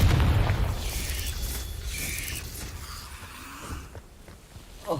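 Confringo fire spell exploding in Hogwarts Legacy, a single heavy boom at the start that rolls off into a fading rumble, with a small burst near the end.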